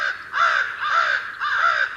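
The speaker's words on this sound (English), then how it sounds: "I love crows" A crow gives three clear, hoarse caws in an even rhythm, moderately close and alone.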